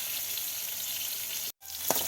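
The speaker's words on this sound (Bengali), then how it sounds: "মাছগুলো উল্টে পাল্টে সুন্দর করে ভাজি করে নিচ্ছে।" Dried sea fish sizzle and crackle steadily as they fry in hot oil, a close, continuous hiss broken by a brief pause before the frying resumes.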